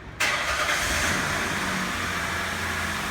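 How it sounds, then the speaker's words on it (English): A car engine cranks and catches after a short quiet moment, then settles into a steady, loud idle in a workshop during EVAP diagnostic testing, with no voices. "I'm going to talk loud here because the motor's going to be running."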